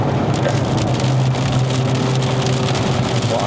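Heavy rain pours down continuously on a car during a test drive of a 2025 Honda Civic FE RS facelift in Malaysia, a thick, even hiss of drops drumming on a surface, with a faint low hum beneath.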